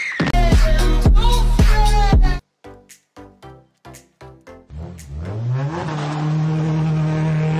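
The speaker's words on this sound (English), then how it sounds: "We tested our car in a race and it's pretty fast." A car races in the Car Parking Multiplayer game, with music at the start, then a series of short bursts, then a rising engine rev that settles into a loud, sustained drone.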